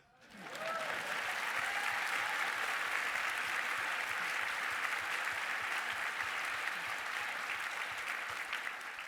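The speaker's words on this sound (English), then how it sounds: "That deserves a hand clap." A large conference audience claps together in sustained, dense applause, loud and even for about eight seconds before tapering slightly.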